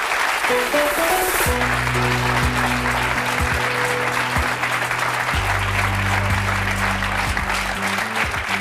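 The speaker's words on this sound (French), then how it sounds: "Je vous demande de l'accueillir et de l'applaudir très chaleureusement" A studio audience on a French talk show applauds warmly to welcome a 15-year-old guest, Guillaume. Steady, full clapping continues throughout over a sustained musical chord.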